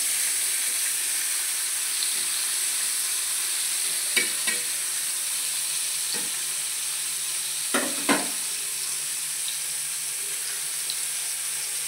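Bitter gourd (karela) fries in a pan with a steady broadband sizzle, broken by a few sharp utensil taps and scrapes near the middle and later on; no one speaks.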